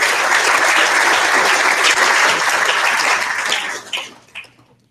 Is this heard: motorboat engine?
no